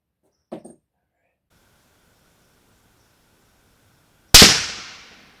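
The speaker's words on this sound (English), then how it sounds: "300 RUM. 160 grain steel core versus 2x10 lumber," A single loud, sharp rifle shot from a .300 Remington Ultra Mag firing 160 grain steel core rounds into 2x10 lumber at 50 yards, with a long decaying outdoor boom; a brief faint voice is heard earlier.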